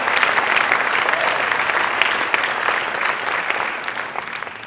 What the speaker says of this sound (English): Does somebody want to applaud for that,